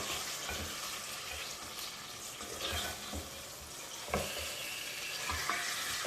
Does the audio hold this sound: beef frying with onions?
yes